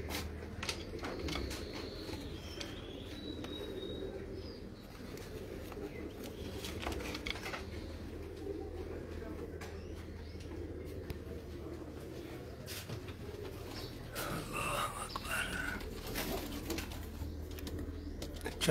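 Breeder pigeons in a loft coo steadily in a low, continuous murmur throughout, with faint chirps and rustling above, no speech.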